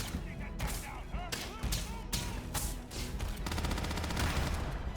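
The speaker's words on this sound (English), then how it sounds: "Opening fire!" Gunfire from the video game Starfield cracks out in repeated close shots and rapid bursts that end in a sustained automatic volley, with voices talking over the shooting.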